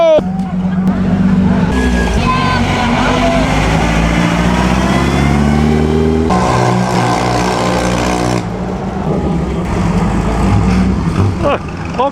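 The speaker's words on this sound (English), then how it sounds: "All kinds of gear stripping." Vintage Mille Miglia race car engines revving and accelerating past with changing pitch and rough gear noise, loud and close, with a crowd and talk mixed in.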